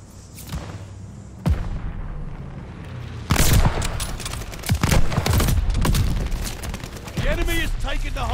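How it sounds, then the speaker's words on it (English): Mortar barrage in the Call of Duty Vanguard match on the Das Haus map in Hardpoint mode: repeated booming blasts and rattling gunfire burst in from about three seconds on, loud and close, with game voice lines around them. "Allies calling a mortar barrage."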